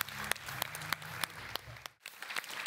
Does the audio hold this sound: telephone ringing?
no